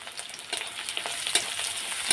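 Onions drop into oil that was tempered with black cumin in a home Bengali kitchen, producing a bright, steady close sizzle with small crackles and stirring scrapes. No voices are present.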